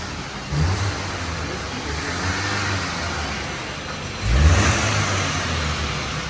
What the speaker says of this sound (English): that's the exhaust note of the Skoda VRS 245.